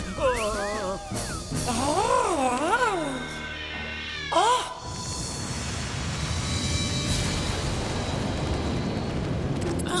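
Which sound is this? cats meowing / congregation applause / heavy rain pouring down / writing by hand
cats meowing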